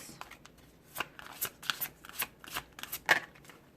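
Tarot cards are shuffled up close, a run of soft riffling flicks and snaps in irregular bursts, quiet and with no voice.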